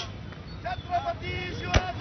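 Firecrackers bursting at a Maratha community celebration in Beed, heard as one sharp, loud bang among crowd voices and chatter.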